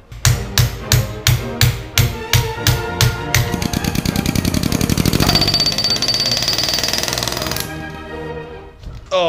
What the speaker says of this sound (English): That was not a cheap air hammer